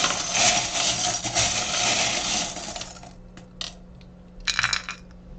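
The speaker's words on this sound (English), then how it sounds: "We do have Blanche Devereaux here with the number 3 from the Golden Girls dice." Golden Girls dice rattle and clatter as they are shaken and rolled, a dense rattling run followed by a few scattered clicks and a final short burst as they settle, close and with no talking.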